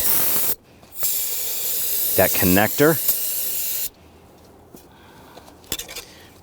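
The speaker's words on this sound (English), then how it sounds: "I'm going to spray this down with some solvent" A sharp hiss of solvent spray from an aerosol can, a couple of short bursts close by, with someone speaking briefly in between, during fuel pump module work on a 2011-2017 Nissan Quest.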